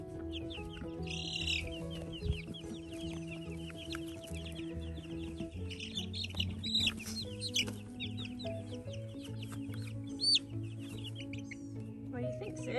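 Australorp and Easter Egger chicks cheep in rapid high bursts, close by, over a steady low hum and background voices.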